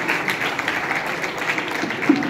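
Audience applause at a live comedy show, a steady wash of clapping from a crowd that holds through the whole moment at moderate loudness.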